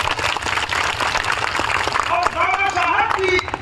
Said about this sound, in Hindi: ताली एक बार।